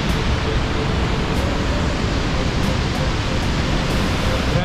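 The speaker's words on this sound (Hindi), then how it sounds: "ओ भाई प्रेशर देखो उधर पानी का।" High-pressure mountain river in Parvati Valley rushing past, a constant loud roar of turbulent water close by, filling everything without pause.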